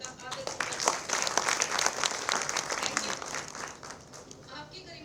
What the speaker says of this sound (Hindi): मैं आग्रह करती हूँ यहाँ उपस्थित सभी जनों से जोरदार तालियों से उपराज्यपाल जी का आदर